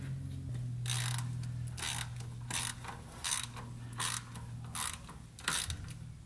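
A hand ratchet tightens 8 mm bolts on a Ford Explorer 5R55W transmission valve body, giving several short bursts of quick clicking spaced about a second apart, fairly quiet and close, with a low hum beneath.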